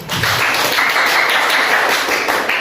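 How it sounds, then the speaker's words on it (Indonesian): Students in a classroom applaud a presenting group, a dense continuous burst of clapping that stays loud and even throughout, close by, with no talking. "Beri tepuk tangan untuk kelompok BUT."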